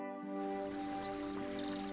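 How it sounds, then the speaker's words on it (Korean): Small forest birds chirp in quick, bright bursts over a steady, sustained musical drone, the tweets clear but fairly light. "귀를 기울이면 작은 새들이 지저귀는 소리와 시냇물이 졸졸 흐르는 소리가 들려요."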